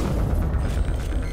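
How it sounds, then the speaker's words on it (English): Rocket explosion in Mass Effect 1, a dense low rumbling blast that fills the moment at close range, loud and continuous without distinct pops. "he shot a rocket at us"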